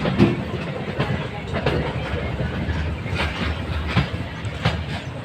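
Passenger train on the Marwar–Goram Ghat line, a route running since 1932, rolling steadily with a continuous rumble and periodic wheel clatter on the rails; a faint voice sits under the noise.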